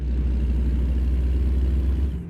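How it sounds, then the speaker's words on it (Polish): In American Truck Simulator, a Kenworth W900 truck's engine gives a deep, loud, steady rumble up close, and it eases off slightly at the very end. "Trzeba przyznać, że tutaj dźwięk silnika naprawdę jest super."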